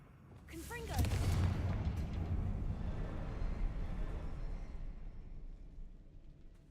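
A Confringo fire spell explodes in the Hogwarts Legacy video game, a loud booming blast near the one-second mark that rumbles on as a sustained low roar and slowly fades over several seconds.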